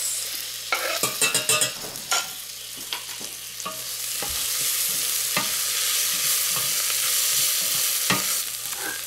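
Chopped hot peppers added to onions frying in a pan, a loud close sizzle with a burst of spatula scrapes and knocks at first, settling into steady frying with occasional stirring clacks, no one talking.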